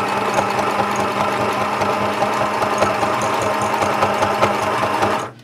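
A sewing machine stitches fabric with a long stitch length, running in a steady rapid mechanical hum and rhythmic needle chatter, close and continuous before stopping abruptly at the end.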